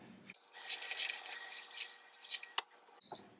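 Raw chicken being washed under a running kitchen tap, a steady hiss of water with soft splashes and squishing as the meat is handled, close and alone for most of the stretch before the flow stops.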